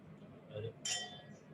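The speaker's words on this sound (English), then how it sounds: "We're gonna take a little sip of our wine, do a little cheers." Wine glasses meet in a toast at a kitchen gathering: one bright, ringing clink that lingers briefly after a soft knock, with quiet room noise around it.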